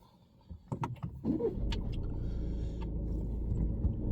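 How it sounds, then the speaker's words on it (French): A car engine is restarted on a driving-exam route in Saint-Brice-sous-Forêt: a few sharp clicks and knocks come first, then a steady low idle rumble settles in and holds close by, with no talking. "On redémarre le véhicule"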